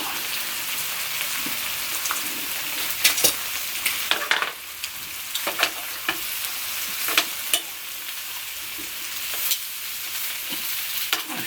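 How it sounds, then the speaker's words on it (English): Vegetables sizzle on a hot grill in a constant crackling hiss, punctuated by sharp clicks and scrapes as they are stirred and turned, fairly close and without talk. "Stirring the vegetables here."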